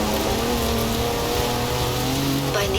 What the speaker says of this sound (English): That's a 4-wheel drive car on mud tyres, completely sideways.